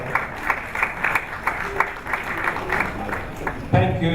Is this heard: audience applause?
yes